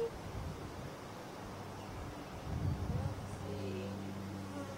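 Steady insect buzzing close by, a low droning hum that swells briefly midway, with a little wind noise and no talk.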